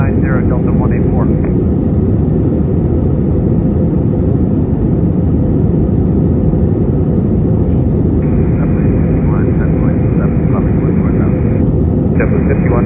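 A JetBlue Airways Airbus A321 jet takes off from Boston in the evening, a loud, steady engine roar running throughout, with radio air traffic control voices heard over it in patches.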